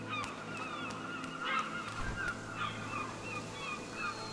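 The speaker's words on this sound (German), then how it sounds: "Hier sind Möwen." Seagulls call in the game RIME, a few squawking honk-like cries repeating at intervals over a low steady ambient hum and faint sea wash.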